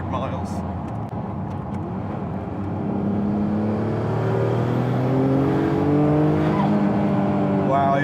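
A Noble M12 GTO3R accelerates hard, its engine note climbing steadily through the gears and growing louder toward the end, heard up close with no talking.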